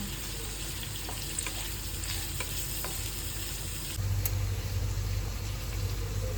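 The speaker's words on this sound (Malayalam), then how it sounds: "നന്നായിട്ട് മിക്സ് ചെയ്തെടുക്കാം" A food mixture is stirred in a frying pan: steady sizzling under repeated scraping strokes, close and continuous, with a low humming rumble joining in partway through. No one speaks.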